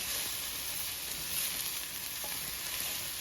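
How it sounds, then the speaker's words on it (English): Shrimp sautéing in a hot pan, a steady close hiss of sizzling oil that holds level throughout with faint stirring ticks. "I'm going to let this saute, get nice and tender."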